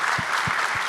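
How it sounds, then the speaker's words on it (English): Steady applause from a crowd at an interview event, a dense wash of clapping filling the whole moment at even loudness, with a few soft low thumps underneath and no voices. "A round of applause for that"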